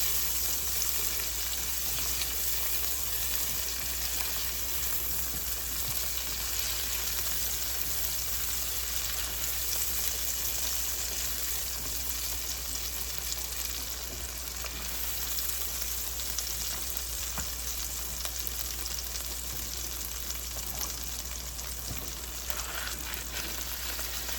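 Tomatoes fry in a pan alongside salmon, giving a continuous, even sizzle and crackle that holds steady and close throughout, with no voices.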